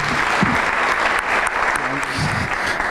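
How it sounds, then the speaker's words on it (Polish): Audience applause fills a hall at a Polish project event, steady and fairly loud, with a voice speaking over the clapping. "A, jakieś oklaski Agnieszka."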